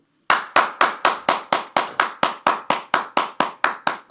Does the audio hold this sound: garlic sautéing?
no